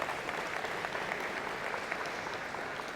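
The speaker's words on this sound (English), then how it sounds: "Yes, give them a big round of applause." A short burst of steady, moderately distant applause for engineering and computer science students at a college convocation, an even wash of clapping from a large audience.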